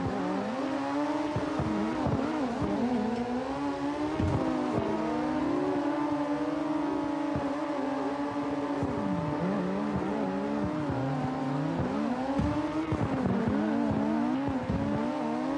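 In the CarX racing game, high-horsepower race cars drift at high speed with layered high-revving engine drones that rise and fall, plus tire squeal, loud and continuous throughout.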